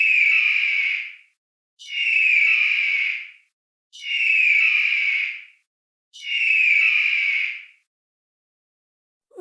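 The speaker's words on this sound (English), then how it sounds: "Correct! It's an eagle." An eagle calling in four drawn-out, shrill screeching cries, evenly spaced about two seconds apart, loud and close, each separated by silence.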